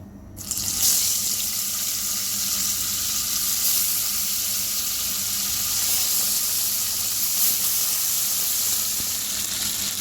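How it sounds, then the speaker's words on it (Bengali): Oil heating in a pan before frying fish, a continuous close hissing sizzle that starts abruptly and stays loud and even throughout, with no speech. "আমি এভাবেই লাউ ভাজি করি আর মাছটা ভেজে তারপর ভোনা করবো আজকে তেল বসাই দিছি"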